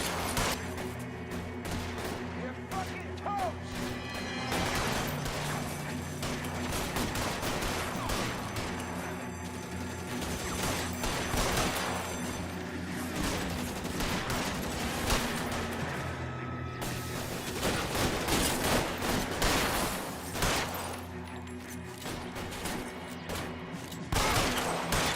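A gunfire shootout in the video game L.A. Noire, with dense, continuous volleys of shots and bursts that stay loud and unbroken, and no talk over them.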